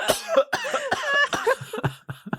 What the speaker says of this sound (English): Can't do that without coughing.